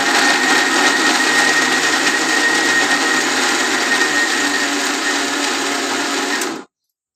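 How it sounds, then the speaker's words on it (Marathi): An electric mixer grinder whirs steadily while blending a banana milkshake, loud and close with a constant motor drone that cuts off abruptly near the end. "छान असं एकत्र त्याचा जीव मिळवून घेतला मिक्सर मधून"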